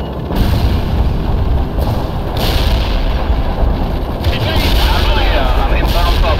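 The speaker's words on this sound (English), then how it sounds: "Firing artillery." Artillery fire in the strategy game World in Conflict: heavy booming blasts and rumbling gunfire fill the scene continuously, loud and dense, with radio voices speaking beneath the barrage.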